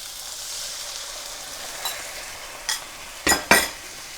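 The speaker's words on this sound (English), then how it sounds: "We're going to put the mixture in, and then we're going to wait for it to reduce" A sweet and sour sauce mixture for Cantonese pork cooks on full heat with a low, even sizzle, and a few sharp scrapes and clanks of a utensil against the pan build up toward the end.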